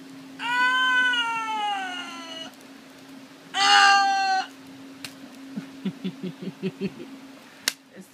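A cat gives two long, loud, clear meows, one after the other, followed by quieter clucking sounds, with a steady low hum underneath.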